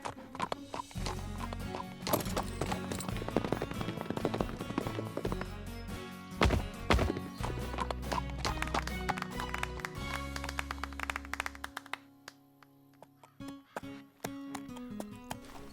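Rapid hoofbeats of a cartoon horse galloping toward a jump over a busy, loud background, fading out near the end into quieter sounds.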